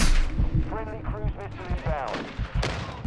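Sharp shots and booms from combat in the Call of Duty Modern Warfare II beta come in scattered bursts, set back under a player talking.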